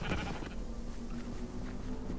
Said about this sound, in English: Sorry, Mr. Sheep